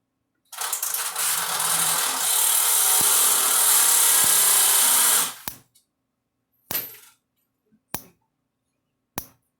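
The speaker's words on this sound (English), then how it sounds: "So we'll put a little screwdriver or something across so you can see it spark." A Gallagher electric fence charger putting out a little over 7,000 volts arcs across a screwdriver. A long loud hissing burst is followed by sharp, isolated snaps about once a second.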